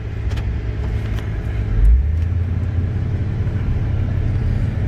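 A 6.0 diesel truck engine idles with a deep, steady rumble, then swells briefly as the truck pulls away and keeps a low, even drone, close by with no talking.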